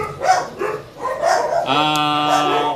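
A dog barks a few times nearby, short yappy barks followed by a sustained whining howl.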